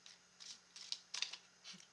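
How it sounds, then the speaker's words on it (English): Tarot cards shuffled by hand, a few quick soft riffling bursts in irregular rhythm, close but quiet over a faint steady hum. "I literally just saw it shuffle through too."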